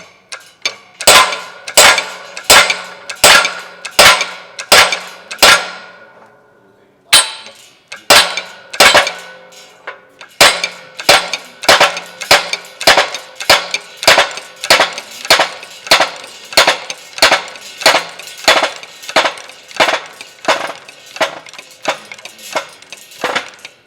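Sharp metallic hammer strikes drive an old suspension bushing out of a DeLorean, a steady series of loud, evenly spaced blows with a brief pause partway through, heard close and alone.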